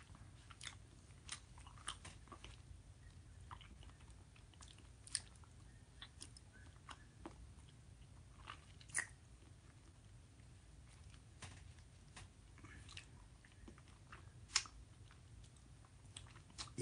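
Quiet, close chewing and biting of Blue Bell Pink Camo 'n Cream ice cream, with small soft crunches and wet mouth sounds scattered across a low, steady background.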